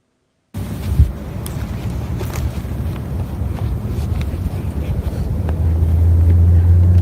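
An unidentified engine drones steadily in an outdoor recording, a low rumbling hum mixed with wind buffeting that grows slightly louder and heavier toward the end.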